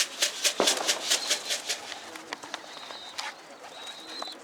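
Birds calling and cooing outdoors, with repeated short chirps early on and a few thin whistles later, moderately close with no talking.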